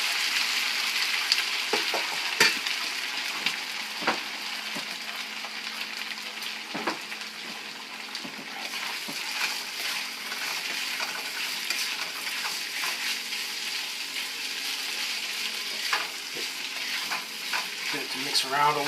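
Spaetzle fry in a pan of butter and oil with a steady, close sizzle, broken by occasional clinks and scrapes of stirring, continuous throughout with no talk.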